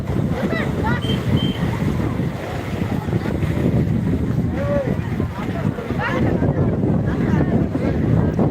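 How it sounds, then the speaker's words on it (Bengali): Strong sea wind buffets the microphone on the beach at Digha, a continuous loud rumbling roar with faint surf beneath, while voices can be heard in the background. "হাওয়া দিচ্ছে একেবারে ঘরের প্রতি হাওয়া বইছে সমুদ্রের ধারে"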